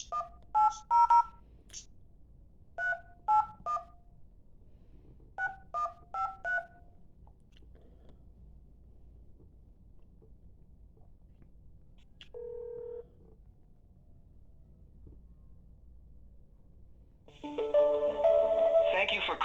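Telephone keypad dialing during a misdialed call: several quick clusters of crisp dial tones, then a held single tone, then ringing and line noise closing out the stretch.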